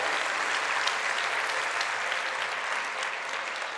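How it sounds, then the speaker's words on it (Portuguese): A church congregation claps in sustained, dense applause at a sermon, an even wash of many hands lasting throughout with no voices on top. "Pode dar uma salva de palmas aí."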